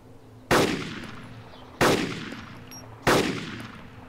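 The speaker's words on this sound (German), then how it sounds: "Dreimal geschossen, aber ich habe keinen Einschlag gesehen." Three single gunshots in the Arma 2 military video game come at even intervals of about 1.3 seconds. Each is a loud, sharp crack followed by a decaying tail, with no talking between them.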